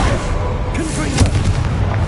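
A Confringo blasting spell bursts into a booming explosion in the Hogwarts Legacy video game, a loud dense rumble filling the short moment amid continuous game noise.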